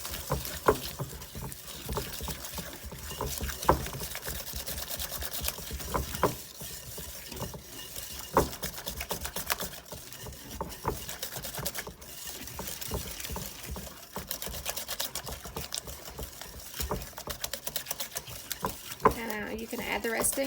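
Cream cheese, dark brown sugar and vanilla are creamed together for a pumpkin pie filling, making a steady, close, soft churning and scraping sound that carries on throughout without pause.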